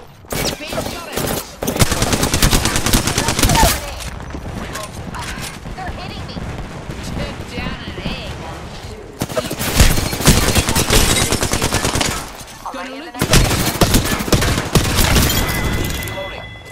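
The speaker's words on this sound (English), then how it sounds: "The enemies are shooting at me." Gunfire in the video game Apex Legends, heard as loud, dense bursts of automatic fire in several long volleys with short pauses between them, and a voice speaking in places.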